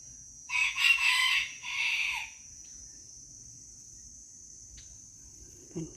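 A rooster crows loudly at close range in a garden on a rabbit farm, one long crow with a short second burst, then quiet outdoor background with a steady insect-like whine and a faint cluck near the end.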